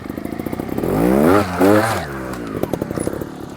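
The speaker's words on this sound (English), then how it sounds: "I'm just going to try to build some RPM very quickly right here and then pop the clutch" A trials motorcycle idles with a chugging putter, then revs sharply twice in quick bursts before the clutch is popped and the engine drops back to a loping idle, close and loud.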